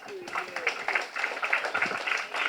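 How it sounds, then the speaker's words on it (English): An audience applauds after a speech at a June 12 democracy movement gathering. Scattered, moderately loud clapping carries on beneath a speaking voice. "Please jam your hands together once again."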